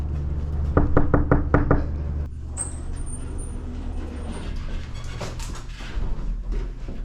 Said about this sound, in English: Let me make sure I'm going to the right door before I start knocking all crazy.